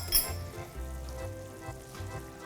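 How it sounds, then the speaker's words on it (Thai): Satay sauce with fish sauce and tamarind bubbling in a pan, a soft continuous sizzle with faint low bubbling and a light clink early on, fairly quiet, no voices. "อันนี้เราก็ค่อยๆเคี่ยวนะครับจนให้ เครื่องปรุงเนี่ยละลายนะครับ"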